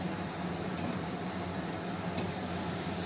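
Boiled potato being mixed into a fried prawn filling in a wok gives a low, continuous sizzle with faint stirring scrapes, steady and quiet throughout.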